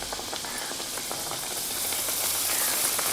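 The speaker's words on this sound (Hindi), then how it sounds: "तो अभी हम पूड़ी को डालते हैं तेल में, एक एक करके इसी तरीक़ा से पूड़ी बना के तेल में डाल देंगे।" Water chestnut flour puris frying one by one in hot oil, giving a steady, dense sizzle that builds slightly louder toward the end, with faint bubbling and no voices.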